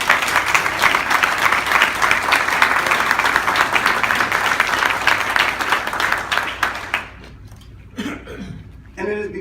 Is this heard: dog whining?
no